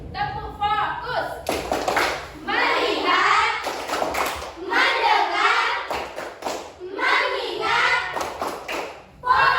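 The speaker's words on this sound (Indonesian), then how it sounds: "Setelah itu kita akan melakukan tepuk fokus" A class of children chants the 'tepuk fokus' clapping routine, their voices joined by sharp rhythmic claps and thumps in repeated bursts, loud and close in a classroom.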